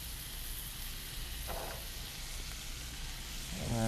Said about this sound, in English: we're going to saute this up real nice